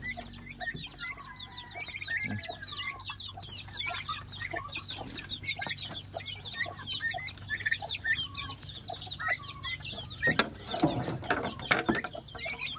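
Chickens clucking continuously in a busy coop, many birds calling over one another with a louder burst of squawks near the end.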